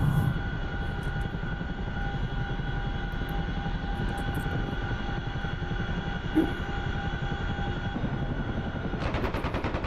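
Continuous turbine and rotor drone of a Chinook helicopter in the DCS World flight simulator, a steady loud engine whine holding throughout with faint rhythmic rotor chop, no talking.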